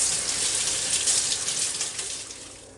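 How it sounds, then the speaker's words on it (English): Hands are washed under a running kitchen tap, a steady close gush of water that tapers off slightly near the end. "let me wash my hands here"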